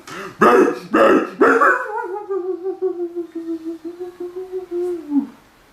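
A dog lets out three loud, close barks, then trails into a long, wavering howl that slowly fades and breaks off.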